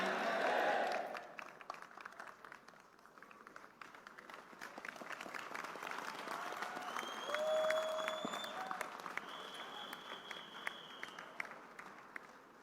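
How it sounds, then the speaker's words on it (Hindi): Sustained audience applause at an IMC event, a dense wash of many hands clapping that starts loud, dips, then swells steadily across the whole stretch, with faint voices and whistle-like tones mixed in. "डॉक्टर श्री अशोक भाटिया जी के लिए जोरदार तालियां।"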